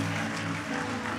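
Church congregation applauding at a service, steady dense clapping with a thick crowd wash, continuous and fairly loud throughout.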